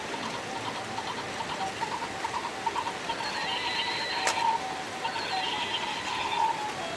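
A horse at a stable gives a drawn-out neigh, wavering over several seconds against a steady outdoor background with no talk.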